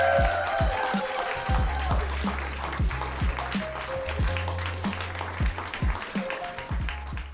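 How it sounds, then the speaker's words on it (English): Audience applause for a comedian at a holiday stand-up show, a modest crowd clapping steadily with distinct individual claps standing out over a low background hum. "A big round of applause for Big Brain Brett."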